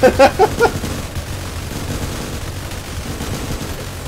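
A quick run of machine-gun bursts from a Roblox Tower Defense Simulator gunner unit opens the clip, loud and rapid for under a second, then gives way to a low, steady game rumble.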